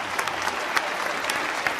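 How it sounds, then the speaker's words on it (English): Audience applause at a talk with Richard Dawkins and Lawrence Krauss, a dense, steady roar of many hands clapping throughout, full and fairly loud. "I appreciate the applause"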